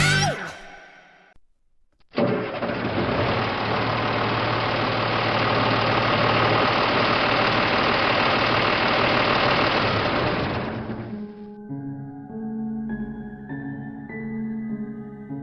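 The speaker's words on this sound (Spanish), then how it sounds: "es el de un motor, de un camión o coche, parándose de repente." A truck or car engine roars loud and steady for several seconds, then abruptly cuts out; a quieter tonal hum carries on afterward.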